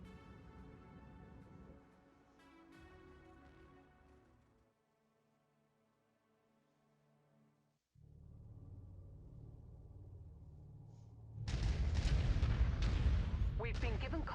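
A Thunderbolt mech in a BattleTech mercenary game fires missiles and solid slug guns, heavy booming volleys that stop for a quiet stretch and then return as a loud, dense barrage.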